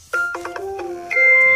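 Several short electronic beeps from button presses on a Neato Botvac Connected robot vacuum, a quick series of tones ending in a longer, louder confirmation chime, with no talking.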